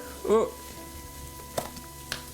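Tomato mixture with seasonings simmering in a pan on the stove gives a faint, steady low sizzle, with a few soft utensil clinks and scrapes on top.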